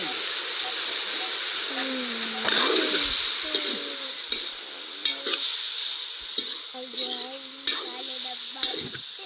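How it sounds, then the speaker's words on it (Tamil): Ingredients sautéing in hot oil with a steady sizzle, stirred now and then with soft scraping clicks; birds coo faintly in the background. "இப்போ அப்படியே எண்ணெயில் வதங்கி வரட்டும்"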